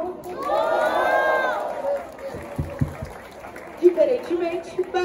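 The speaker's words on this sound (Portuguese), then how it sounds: "Barulho quem gostou das rimas de Sofia." A crowd at the Batalha da Leste street rap battle in São Paulo's east side cheers and shouts for rapper Sofia, a loud burst of voices that fades into scattered calls and a few sharp bangs.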